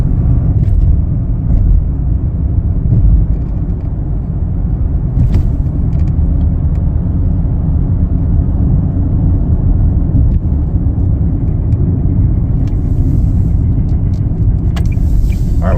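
Steady low road rumble inside a 2021 Nissan Sentra SV while driving, a constant engine and tire drone filling the cabin with a few faint clicks and rattles, no voices.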